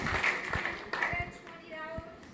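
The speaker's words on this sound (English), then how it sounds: "Come on, put your hands together for him." Scattered hand claps from a church congregation applauding a donation, a few sharp claps over a brief stretch, partly under a voice speaking.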